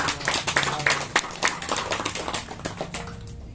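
Audience clapping for a documentation team at a small gathering, uneven and fairly sparse with distinct individual claps, tapering off toward the end.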